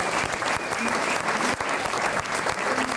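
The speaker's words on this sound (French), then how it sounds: "applaudissez-les fort" An audience at a slam poetry show applauds, a dense, steady wash of clapping close by that holds loud throughout.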